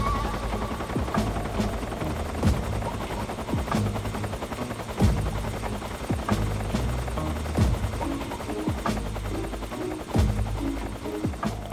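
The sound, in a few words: helicopter flying close in video game Metal Gear Solid 3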